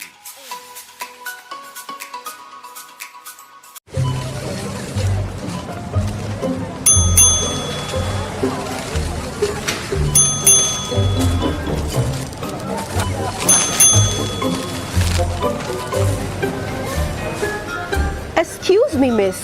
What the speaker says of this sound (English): What's that ding-ding noise?